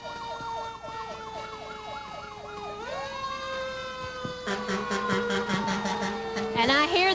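A Cornelia Fire Department fire engine siren wails nearby during a Christmas parade in Cornelia, Georgia, cycling in a fast yelp then a long rising tone, joined by horn blasts and a second siren.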